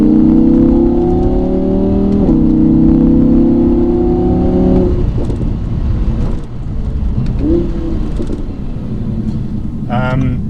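A 2017 Audi R8 Spyder's naturally aspirated 5.2-litre V10 revs up loudly in rising sweeps through the gears on a public road, then settles to a lower rumble with wind noise.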